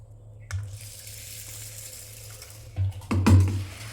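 Tap water running into a vessel while broken jowar grits are rinsed, a close splashing stream with a couple of louder gushes and sloshes near the end.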